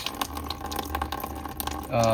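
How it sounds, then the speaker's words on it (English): Distilled-water coolant flush pouring and splashing out of a Ducati Hypermotard SP 939 as the drain is opened, a steady close trickle with faint drips, ending in a brief louder gurgle. "So let's unscrew this and let this drain."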